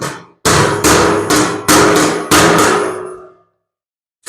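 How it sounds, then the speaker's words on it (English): A handful of ringing hammer taps on welded automotive sheet metal, spaced unevenly and close by, each leaving a short metallic ring that fades into silence. "Just going to tap it so it's flush."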